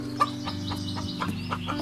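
A hen clucks softly and repeatedly alongside newly hatched chicks, a steady run of short close clucks with faint higher peeps over a continuous low background tone.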